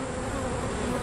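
Italian honey bees buzzing steadily at their hive, a close, dense, continuous drone with no voices.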